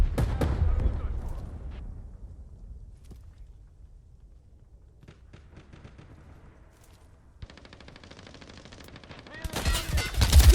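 Enemy artillery barrage in the video game Hired Ops, heavy booming impacts and rumble fading out, then a burst of rapid crackling fire and a loud blast near the end.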